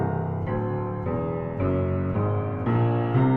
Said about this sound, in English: in my left hand I'm just going to go up a whole tone scale